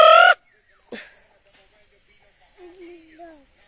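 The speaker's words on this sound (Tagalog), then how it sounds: "The chickens are hiding." Chickens on a rural property hiding near a tree give a few soft clucks and brief calls, with a sharp burst at the start and faint insect chirring behind.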